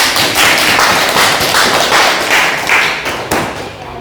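A classroom of students applauds a young student after a Qur'an and Hadith micro-teaching lesson, close and loud, a dense burst of rapid clapping that swells and then thins out near the end.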